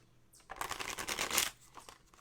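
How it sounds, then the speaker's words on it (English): A quick riffle of tarot cards being shuffled, a dense papery flutter lasting about a second, close and fairly quiet. "And we'll find out how it shuffles."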